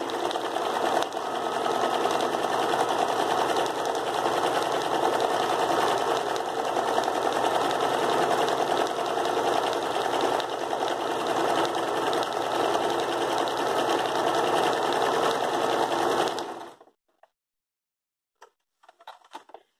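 A sewing machine stitches fabric for a floral rug, a fast, steady, close whir lasting about seventeen seconds before it stops abruptly, followed by a few faint handling clicks.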